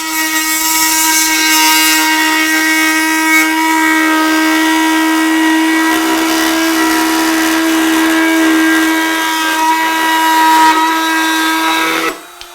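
A corded oscillating multi-tool fitted with an aggressive blade buzzes loudly and steadily with a high, tonal whine, running without a break for about twelve seconds before it cuts off abruptly.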